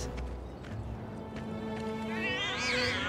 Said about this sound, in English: Oh my god, kitties.